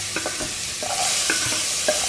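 Onion and leek frying in sunflower oil in a pan, a steady close sizzle with a few brief stirring clinks and scrapes over it.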